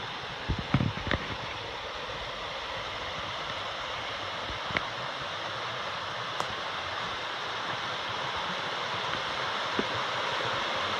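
Steady broadband rush of creek water at an easy, wide crossing on a backpacking loop in the Great Smoky Mountains, continuous and close, with a few small knocks and splashes early on and no talk.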